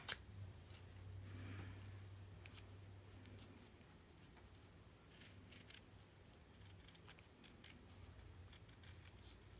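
Scissors trimming paper around a pinned pattern during a craft project, soft quiet snips and crisp rustles repeating at an uneven pace, close by, with no voices.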